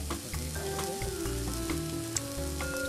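Fish sizzles as it fries in the cooking game Cook, Serve, Delicious, a steady crackle set over a looping musical background with no talk.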